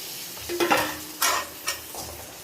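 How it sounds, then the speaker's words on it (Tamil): Bottle gourd is stirred into a simmering curry in a pan, with a spoon scraping and clinking against the metal in several bursts over a constant soft sizzle. "போட்டுட்டு நல்லா கலந்து விடுவோம்."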